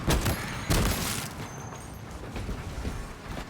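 Alien bugs fire guns in the video game Space Marine 2, with loud, booming bursts of gunfire at the start and around the one-second mark, then fainter, rumbling shots and battle noise trailing on.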